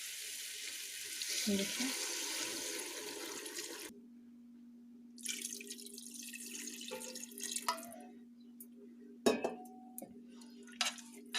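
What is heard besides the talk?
pouring half a litre of water into the pot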